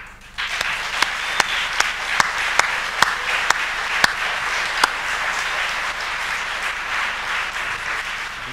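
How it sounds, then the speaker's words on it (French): Audience applause at a child protection research awards ceremony in France, a steady broadband clatter of many hands lasting several seconds with a few sharper individual claps standing out, fairly close and continuous throughout. "Je vous demande d'applaudir François Saurin."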